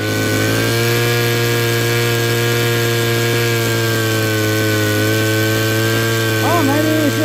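A small engine restarted with the choke on and running steadily, a loud close buzzing drone with a strong steady tone that wavers near the end as the revs shift.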